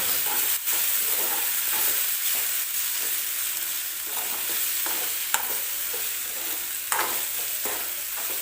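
Onion tomato chutney with chili powder is mixed in a pan over a low flame, with a constant sizzle and soft repeated scraping of a spoon against the pan and a few sharper taps.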